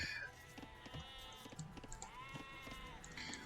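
Sheep bleat in a real-time strategy game match, several wavering bleats over a busy layer of game sound effects, moderately loud and fairly close.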